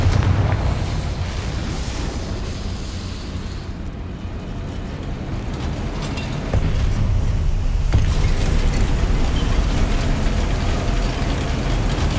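In Hogwarts Legacy, a Confringo explosive spell goes off as a deep, rumbling blast with a sustained low roar that swells again midway, loud and dense with no clear talk over it.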